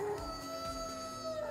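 In Fortnite, the Howl emote plays a single drawn-out canine howl with a rising then sliding tone, clear and close, over a quiet game backdrop.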